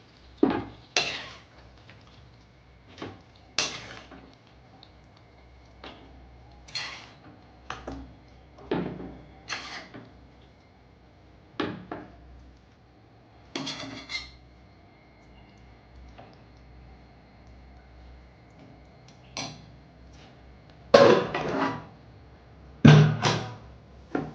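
Metal utensils clink and tap against a dish as kaju chicken with potatoes and thick gravy is served, a scattered run of sharp, close knocks separated by pauses, louder toward the end.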